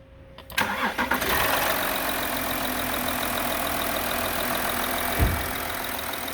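A 2013 Audi Q7 diesel engine with over 300,000 miles cranks and catches, then settles into a steady, even idle with a brief bump partway through; loud and close, no talking.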